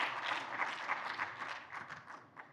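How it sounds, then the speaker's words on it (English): Audience applause at a business forum, a dense wash of many hands clapping at a steady level that fades slightly toward the end, with no talk over it. "A round of applause for her, please."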